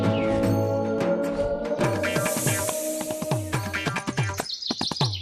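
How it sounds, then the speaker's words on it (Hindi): Baby birds chirping in a nest, a close, lively series of bright, rapid tweets and rising calls overlapping one another without pause. "चिड़िया के बच्चों की आवाज"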